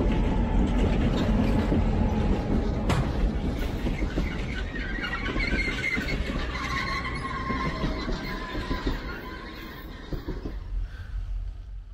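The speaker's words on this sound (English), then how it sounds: "they had to wait for the southbound train from Pittston to pass by" A 101-car Reading & Northern freight train rumbles steadily past, with high metallic wheel squeal rising over the low roar of the passing cars.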